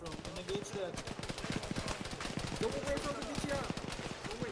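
Gunfire from a team battle in the game Arma: rapid machine-gun bursts and scattered shots fire steadily throughout, mixed with voices talking over the firing.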